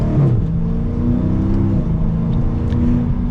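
A 2022 Dodge Challenger Scat Pack 392 Shaker accelerates hard in manual sport mode, its loud V8 climbing steadily in pitch before a brief dip as it shifts into second and pulls again, with no talking.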